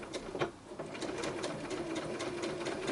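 A sewing machine backstitches fabric scraps for a scrappy pointed-arrows quilt block, running steadily and close with a continuous whirring stitch rhythm and small ticks throughout.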